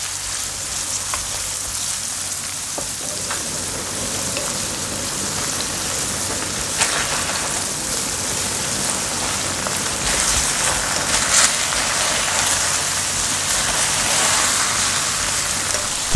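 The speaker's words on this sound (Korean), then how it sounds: "그 위에 대파를 넣고 다시 또 볶아줍니다." Korean sundae, mixed vegetables and green onion stir-fry in a pan, giving a steady, dense sizzle like rain on a surface that runs unbroken throughout, with no talking.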